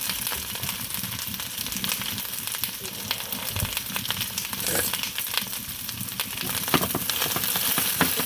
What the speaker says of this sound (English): going to saute it lightly in the olive oil